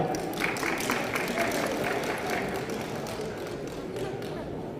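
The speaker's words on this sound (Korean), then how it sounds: "박수 한 번 보내주시기 바랍니다" A crowd at a Democratic Party of Korea political event applauding steadily, a dense wash of clapping that holds at an even level throughout.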